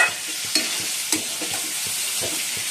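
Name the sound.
stirring fish curry with mustard paste in pan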